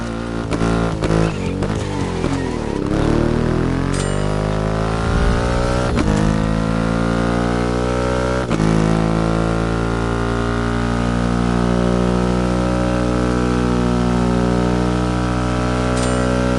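A Triumph motorcycle with a 2.5-litre engine in The Crew Motorfest, revving hard and shifting through gears, its engine note climbing and dropping in sweeping pitch runs, loud and close with no voices.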